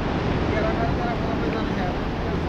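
The flooded Teesta River in Sikkim rushes past in a loud, constant roar of turbulent water, with steady wind-like noise filling the whole moment.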